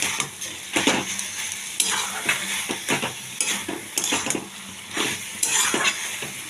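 Metal spoon scraping and clinking around a pot of banana flower curry cooked with prawns, with a soft sizzle beneath the steady, repeated stirring strokes.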